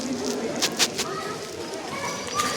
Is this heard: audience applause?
no